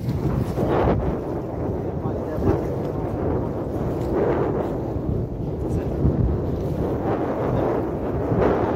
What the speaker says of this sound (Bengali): এই সময় মানে যে বৃষ্টি আসে নাই এখনো, কিন্তু বাতাস তামাম বাতাস আর কি।